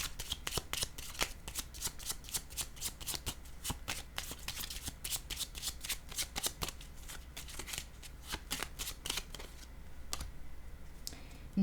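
Tarot cards are shuffled in rapid riffling bursts, close and crisp, with quick repeated flicking and soft slaps as cards are laid down on a table.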